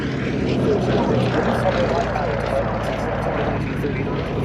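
A Bristol Blenheim and Westland Lysander aircraft fly past at the Duxford Battle of Britain air show, a steady droning propeller-engine roar that holds evenly throughout, heard at moderate distance with a faint commentary voice over it.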